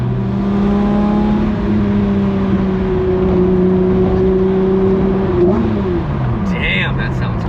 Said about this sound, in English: What's cool is you get a ton of induction noise in the cabin.